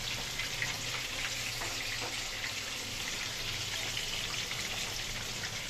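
Pieces of stingray fish fry crisply in a pan, a steady close sizzle and spatter of hot oil with constant fine crackling and no voices.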